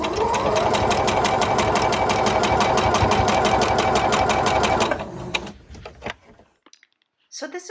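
A sewing machine runs fast and steady while quilting a pieced log cabin pin cushion, stitching quilt-as-you-go through scrap batting. It hums with a rapid, even needle rhythm, then stops abruptly near the end, leaving a few small handling clicks.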